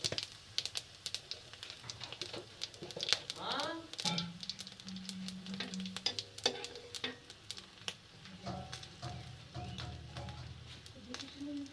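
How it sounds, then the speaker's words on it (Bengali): Cumin seeds sizzling as they hit hot oil in a pan with dried red chillies, tempering for a bitter gourd and lentil dal dish; a steady close crackling fry with light stirring clatter, no talking. "জিরের ফোড়ন দেব।"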